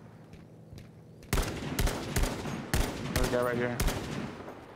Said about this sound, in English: Oh shit, they're sniping us.